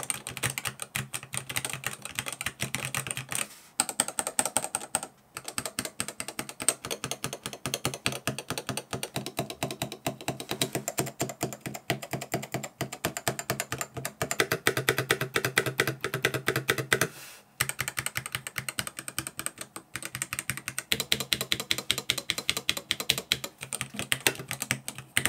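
Rapid, continuous typing on a Marsback M1 mechanical keyboard with 4 mm travel switches, dense loud clacking keystrokes close up with a few brief pauses, no voices.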